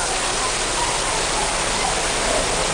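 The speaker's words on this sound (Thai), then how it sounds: "ฝนตกหนักครับ" Heavy rain falls during a Thai flood, a dense, constant roar of water that fills the whole clip at steady loudness, with no break and no talk over it.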